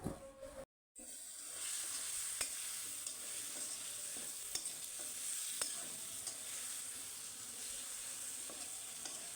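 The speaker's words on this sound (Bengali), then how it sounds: "আর একটু নুন দিয়ে জলে গুলে মশলাটা ভালোভাবে কষাবো" Spice masala mixed with water and salt being sautéed in a pan for a vegetarian potato dish, a steady close hiss and sizzle with stirring scrapes and occasional ticks, after a brief cut to silence at the start.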